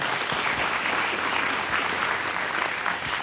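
An audience at a Jenks State of the City address applauds the city councilors, a steady, full wash of clapping from the room, heard alone.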